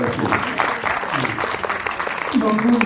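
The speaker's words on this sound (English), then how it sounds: "So round of applause for yourself, please." Audience clapping at a film premiere and interactive session in Gurgaon, a steady moderately loud patter of hands with a voice starting over it near the end.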